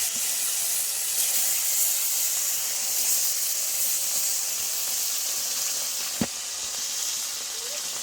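Koi fish fry in hot oil in a kadai with a loud, continuous close-up sizzling hiss throughout, broken once near the end by a brief knock.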